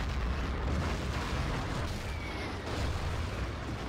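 In a Battlefield 2 conquest match, an SRAW rocket strikes a Vodnik vehicle, giving a dense rumbling blast of explosion and battle noise that fills the whole stretch, loud and close, with no talk.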